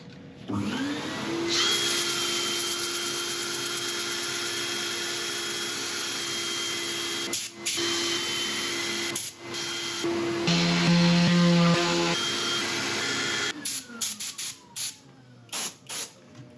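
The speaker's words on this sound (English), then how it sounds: "I'll set up for sanding." Sanding a turned beech bowl on a spinning lathe gives a steady loud whirring hiss, likely with dust extraction running, broken by a few brief dips and pauses before stopping near the end.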